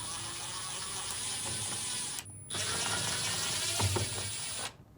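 A screwdriver backs out Phillips screws from the control panel of a Fisher & Paykel washing machine, giving a steady close grinding ratchet-like whir that breaks off briefly twice.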